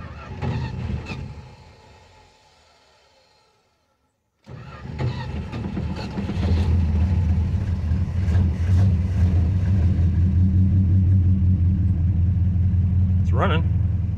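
A 1969 Dodge Dart GT, dormant for nearly 12 years, cranks over, falls quiet, then fires and settles into a loud, steady fast idle with a brief rev; a person speaks near the start.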